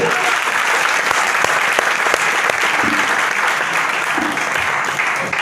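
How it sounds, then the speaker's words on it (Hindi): Loud, sustained applause from a seated audience at a company presentation as a senior guest is invited on stage, dense clapping that holds steady throughout. "उनके लिए जोरदार ताली हो जाए"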